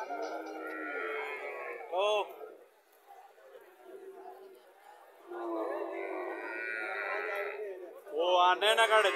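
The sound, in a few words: Friesian cattle mooing at market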